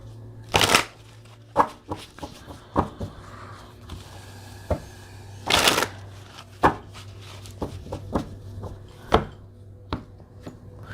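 An oracle card deck being shuffled at close range, with repeated riffles and soft slaps of cards in an irregular rhythm and no talking.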